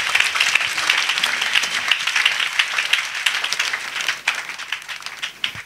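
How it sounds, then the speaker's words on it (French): A congregation at a salvation and healing weekend gathering in Bingerville claps and applauds, a dense burst of many hands that gradually thins and becomes more scattered toward the end. "Clap for Jesus Christ."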